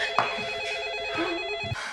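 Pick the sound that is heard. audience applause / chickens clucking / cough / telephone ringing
telephone ringing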